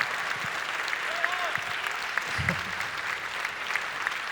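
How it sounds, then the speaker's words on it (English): An audience claps steadily throughout, a dense even patter of applause at a company's fourth-birthday gathering, with a brief voice or two under it. "so we need to clap for that"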